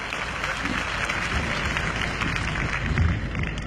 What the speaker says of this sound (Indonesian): Tepuk tangan untuk Saudara Yanuar Rizky Pahlevi.